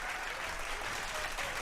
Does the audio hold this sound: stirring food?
no